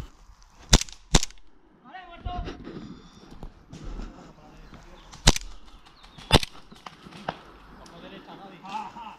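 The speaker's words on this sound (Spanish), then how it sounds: "pero le disparo como advertencia" Sharp snapping shots from an airsoft gun, a few spaced apart, over quiet outdoor ambience with some murmured talk and rustling.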